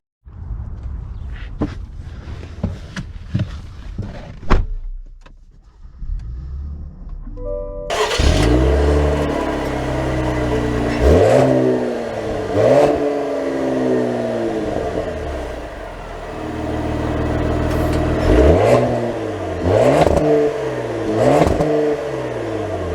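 A 2022 Cadillac CT5 Premium Luxury 550T sedan: a few clicks and cabin sounds, then the engine starts and settles into a steady idle before rising and falling through several revving accelerations as it drives off, close and loud.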